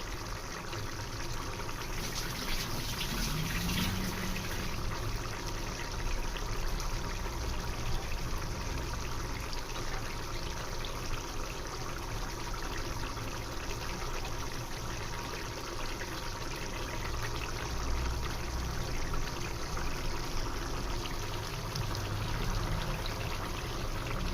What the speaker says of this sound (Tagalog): lagyan lang po natin ng tubig para mag-absorb na yung bagoong sa ating pork